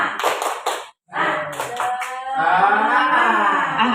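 A group of adults at a school workshop does a rhythmic spirit clap, with three quick bursts of claps, then a pause, then more patterned clapping, followed by voices chanting together loudly.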